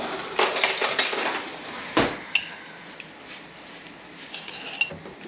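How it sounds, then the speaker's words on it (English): Stored sausage and mushrooms are scraped out of a container into a skillet, with close clinking and scraping of a utensil, one sharper knock partway through, then quieter taps. "So we'll just empty this into the skillet."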